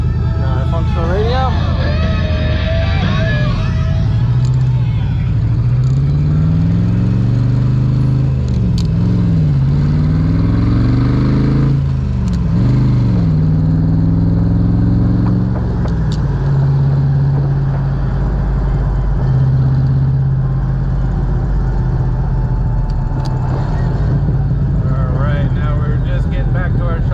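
A 1965 Shelby Cobra Factory Five engine rumbles loud and close, revving in repeated rising and falling sweeps before settling into a steady idle-like drone, with a voice speaking over it at times.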